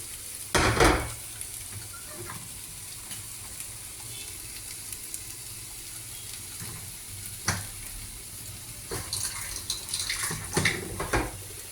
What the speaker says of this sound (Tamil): இதில் லேசாக சுடு தண்ணி விடுறோம்.